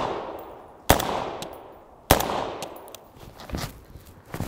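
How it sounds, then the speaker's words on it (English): FN SCAR rifle fitted with a DiSCARder gas regulator firing outdoors: two sharp, loud reports about a second apart, each with a long echoing decay, then fainter clicks and handling noises. "after all that full auto shooting, the DiSCARder itself hasn't gotten hot"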